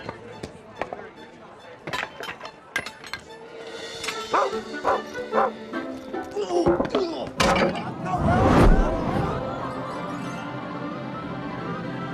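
A dog barks and yips in sharp bursts, with whimpers and a door-like knock in between, growing louder and busier toward the end while people shout over it.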